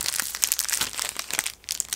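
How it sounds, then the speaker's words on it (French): Paper wrapper around a cheap Japanese 100-yen snack being crinkled and crumpled up close, a steady run of crisp rustles with brief pauses and no speech. "Peut-être que je peux faire de la ASMR là, avec le bruit du papier."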